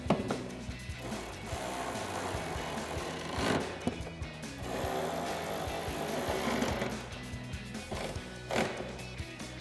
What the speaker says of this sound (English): And then take a 10mm socket, tighten those down.